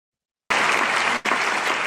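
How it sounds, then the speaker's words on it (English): An audience in Budapest bursts into applause after a performance, dense loud clapping from many hands that starts abruptly and keeps a steady roar, with a brief dip partway through. "This is an audience in Budapest applauding after a performance."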